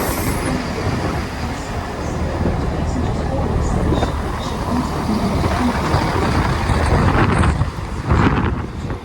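Transport for Wales class 158 diesel unit 158831 passing close by at a station, a loud continuous rumble of wheels and engine with wheel squeal and wind buffeting the microphone, a brief voice near the end.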